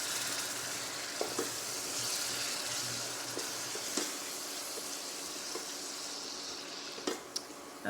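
Garlic and cumin fry with black beans in a pan, giving a steady, close sizzle throughout with a few sharp clicks and scrapes from stirring; no one speaks.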